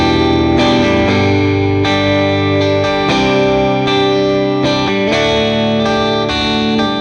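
Distorted electric guitar chords ring out loud and sustained through an 85-watt all-tube power amp with four 6L6 tubes, with chorus-like shimmer and a few chord changes.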